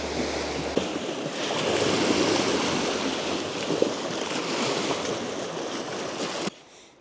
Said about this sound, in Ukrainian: Оце море тут.